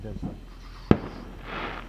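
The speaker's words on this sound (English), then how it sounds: "World class fireworks." A single sharp firework bang bursts out during a Fourth of July backyard display, sudden and fairly close, with a faint murmur of background noise around it.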